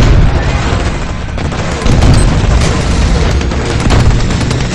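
Artillery fire in the strategy video game Empires and Allies comes through as dense, loud booming and crackling blasts that overlap into a continuous barrage for the whole stretch.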